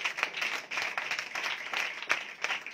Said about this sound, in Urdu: پوری جان کے ساتھ اس کی تعریف کریں جو اس وقت یہاں پر موجود ہے، آپ کے ساتھ ہے، یہاں چل پھر رہا، اس کے لیے زوردار تالیاں۔